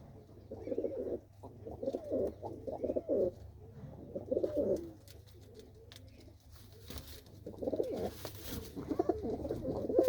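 Pet pigeons, kept as a hobby flock, coo in repeated soft throaty bursts that come and go across the stretch, fairly close and quiet, with no voices over them.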